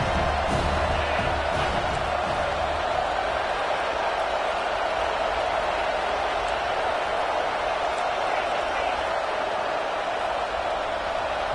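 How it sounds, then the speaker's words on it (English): A football stadium crowd roars loudly and without a break, a dense wall of cheering that stays steady throughout. "with this place rocking, the crowd forces a false start"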